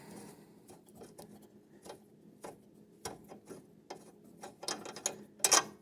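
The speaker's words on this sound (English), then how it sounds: "I'm going to have a ratcheting wrench, but you could use a long impact." A ratcheting wrench loosens a bolt on a Husqvarna or Craftsman riding mower deck, giving quiet, irregular bursts of mechanical clicking that grow louder and busier toward the end, with no talking.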